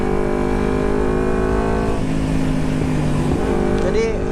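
An old carbureted Kawasaki Ninja 250 motorcycle fitted with a Termignoni exhaust runs close by, a loud, buzzy, steady engine note that dips and shifts pitch midway with a slight uneven stutter.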